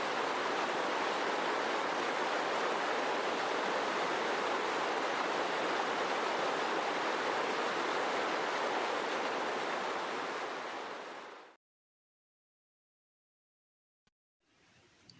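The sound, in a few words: river water flowing past an old water wheel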